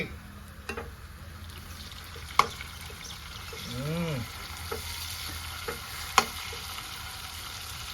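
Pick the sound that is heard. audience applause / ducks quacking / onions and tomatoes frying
onions and tomatoes frying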